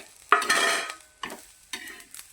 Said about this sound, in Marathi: भाजून मसाला खसखस टाकले याच्यामध्ये